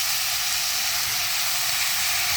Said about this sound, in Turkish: haşladığımız ve süzüp yıkadığımız fasulyemizi atalım